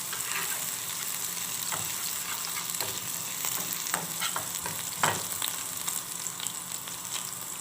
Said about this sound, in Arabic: حطيت فيها شويه زيت وحطيت فيها فصين توم كده